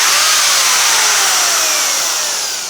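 An oil drilling rig runs with a loud, steady high-pitched mechanical whine and grinding roar, continuous throughout, nearby.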